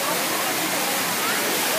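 Water pouring and draining from an indoor atrium fountain, a steady broadband rush like a small waterfall that holds at a constant level throughout.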